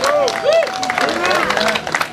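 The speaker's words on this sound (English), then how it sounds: "If we can give a round of applause to the City of Davenport and Mayor Frank Kli" A brief burst of clapping and crowd noise at a 100th-anniversary celebration of the Freight House in Davenport, with a voice carrying over the top.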